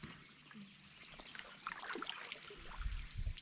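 Water trickling down a clay riverbank at a park, a faint close dribble with small bubbling splashes and gurgles growing slightly busier toward the end, set against quiet outdoor ambience.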